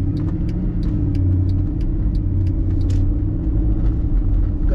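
A 2011 Mercedes-Benz SLS AMG engine and exhaust rumble low and loud from inside the car, with steady road noise and a slight rise in throttle.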